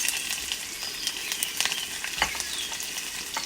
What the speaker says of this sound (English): drop in the onions